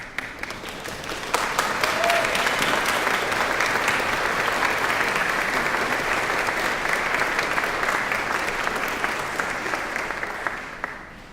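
Large audience at a conservatory commencement ceremony breaks into sustained, full applause that swells after a second and holds steady before tapering off near the end.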